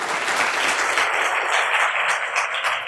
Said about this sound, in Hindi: इनके लिए दोबारा तालियां